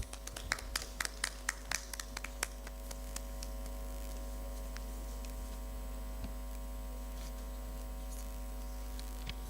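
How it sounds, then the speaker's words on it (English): A small audience claps after a finance research challenge presentation, a few scattered, distinct hand claps early on that quickly thin out and leave a steady electrical hum. "Please give them a round of applause."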